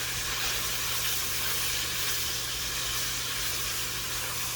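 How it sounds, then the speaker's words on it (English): Steady, close sizzling and hissing of potatoes frying in a pan, continuous and even throughout with a low hum beneath. "We are traditional frying now."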